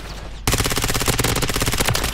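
Automatic fire from an ISO 9mm submachine gun in Call of Duty: Modern Warfare III, a sustained loud burst of rapid evenly spaced shots starting abruptly after a brief quieter moment.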